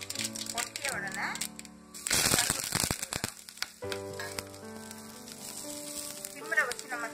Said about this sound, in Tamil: கடுகு நல்லா பொட்டியாச்சு